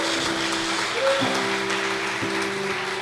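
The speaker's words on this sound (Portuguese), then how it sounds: "aplauda o Senhor nesta noite" A church congregation applauds the Lord during an evening sermon, a steady wash of many hands clapping with a faint sustained tone humming underneath throughout.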